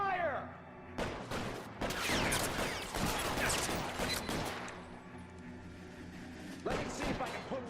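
A noir-style video game shootout sounds as a dense run of loud, overlapping gunshots for several seconds. It eases into a quieter stretch, then one more shot lands near the end.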